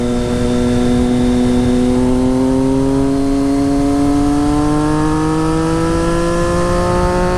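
A Triumph Street Triple motorcycle fitted with a Racefit Growler straight-pipe exhaust pulls hard and loud nearby, its engine note rising steadily through one long continuous run with no speech.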